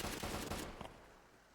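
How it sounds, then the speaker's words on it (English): Dense bursts of rapid video-game gunfire with rounds raining down during a competitive tournament match, loud and continuous at first, then cutting off into a fading tail. "you can hear the bullets continuing to rain down at J4"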